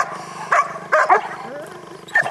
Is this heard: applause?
no